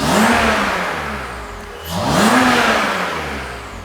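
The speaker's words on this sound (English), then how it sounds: "Oh, these injectors are loud. A lot louder than the stock ones." A supercharged BMW E39 530i Touring engine runs close by with louder aftermarket injectors, giving a strong steady drone that dips briefly and then swells again as it revs.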